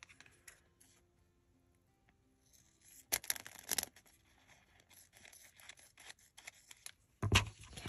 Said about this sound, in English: I'm going to cut it right to here